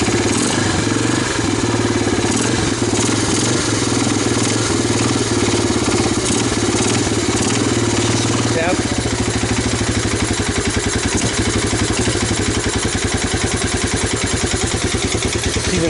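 A 1985 Honda 250ES ATC three-wheeler, a stuck-valve machine abandoned for twenty years, idles steadily up close with a loud, even mechanical chatter that stays unbroken throughout, a brief word spoken over it.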